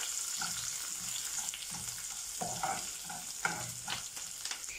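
A tomato rice mixture with curry leaves is stirred in a frying pan: soft, repeated scraping strokes over a quiet, continuous sizzle, with no talking.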